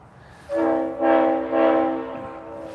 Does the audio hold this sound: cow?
no